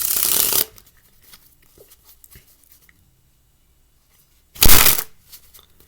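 Two loud bursts of a deck of playing cards being riffled in a Pharaoh shuffle, one at the start and another near the end, with quiet stretches between.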